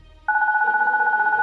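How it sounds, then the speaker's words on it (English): A baby phone in the Goodbye Deponia point-and-click game rings with a sudden loud, steady electronic warble that starts after a short pause and carries on alone. "my baby phone's ringing"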